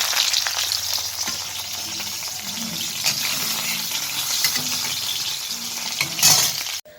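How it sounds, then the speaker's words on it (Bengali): Cauliflower florets frying in oil for a katla fish curry with potato: a loud, dense, close sizzle with stirring scrapes throughout, some faint low voices in the background, ending abruptly. "এই যে ফুলকপিগুলো ভাজি"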